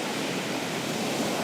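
Sea waves and current wash steadily along a beach during a water rescue, a loud continuous broadband surf rush with no talking.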